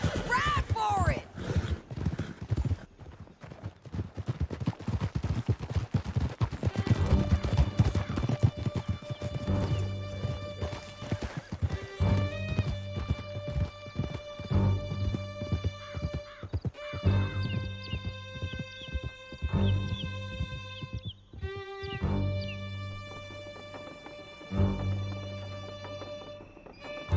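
Horses clip-clop at a gallop through a canyon chase in Red Dead Redemption 2, hoofbeats running steady and close beneath shouted dialogue, an occasional whinny, and music.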